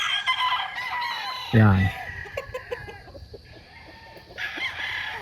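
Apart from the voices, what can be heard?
chickens clucking and crowing on a farm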